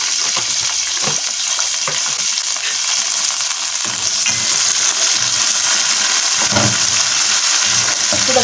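Onion frying in fat in a pan makes a loud, continuous crackling sizzle, with occasional stirring scrapes and bursts of spattering over it.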